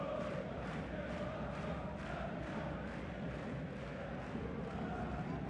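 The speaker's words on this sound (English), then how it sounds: "you can hear the home crowd. They're getting into it" Home crowd at a Champions League basketball game between Aris and Banvit makes a dense, steady roar of cheering and chanting with rhythmic pulses, a commentator faintly audible beneath.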